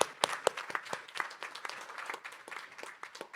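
Audience at a RISC-V conference panel applauds, a short burst of scattered hand claps that starts with sharp individual claps and settles into a steady, moderately close patter.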